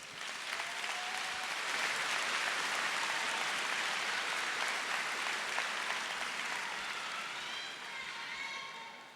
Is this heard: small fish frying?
no